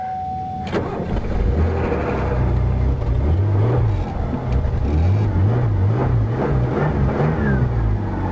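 A scrap-bound car's engine turns over and settles into a steady running idle, with slight revs rising and falling, loud and close throughout.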